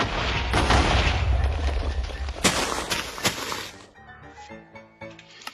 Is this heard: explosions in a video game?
yes